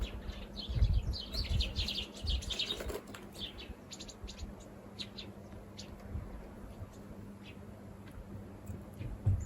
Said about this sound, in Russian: Птички у нас там.